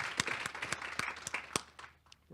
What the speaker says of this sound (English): If I could have a quick round of applause for our sponsors